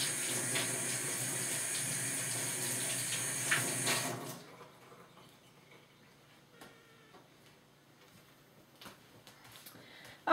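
Tap water runs steadily into a sink to cool a heated plastic model horse, a moderate rushing stream that stops abruptly midway, leaving faint drips, ticks and small handling sounds.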